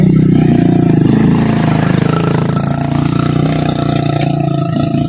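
A motorcycle engine runs steadily and loud throughout, a continuous droning hum with slight rise and fall as it passes close by on a group bikers' anniversary ride.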